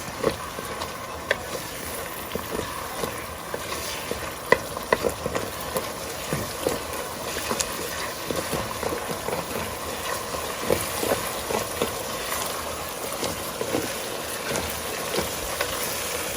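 Loud, continuous sizzling and crackling of a cabbage mix frying in a hot pan, with scattered pops and stirring scrapes throughout.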